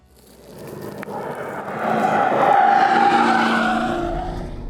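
A 2022 BMW X5 M50i SUV stops hard in a braking test on a less-than-ideal road surface, tires skidding and squealing in a rising then fading rush lasting a few seconds.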